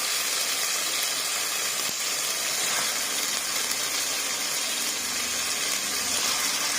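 Chicken pieces dropped into hot oil with frying ginger-garlic masala for a home-style chicken curry, giving a steady, loud broadband sizzle and hiss that holds on alone throughout.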